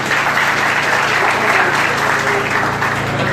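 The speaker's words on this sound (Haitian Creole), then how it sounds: "Pas de gros bravo pour nous." A crowd applauds steadily and densely throughout, a thick wash of clapping at a public ceremony launching a drinking-water project in the commune of Anse-Rouge, Haiti, with no pause or letup.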